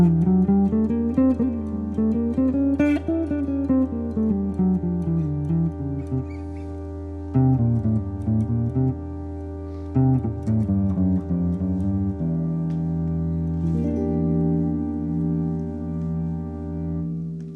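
Nine-note hybrid scale played over a minor 7 flat 5 chord, heard as a sustained, bright-toned instrumental line of rising and falling notes over a held low chord, ending on a long sustained tone, with no talk.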